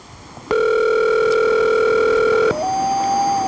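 An unanswered phone call gives a steady electronic ringback tone for about two seconds, loud and close. It cuts off into a fainter, thin rising tone.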